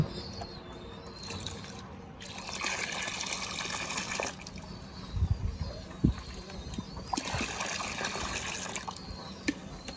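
Water mixed with a calcium supplement for pigeons being stirred in a container, producing continuous sloshing and swirling with a few sharper splashes partway through, close by and moderately loud, with no speech.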